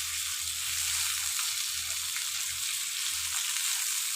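Pieces of tilapia frying together in a small pan for a fish curry with potato, eggplant and tomato, giving a steady, close, bright sizzle with faint low bumps of stirring and no talk.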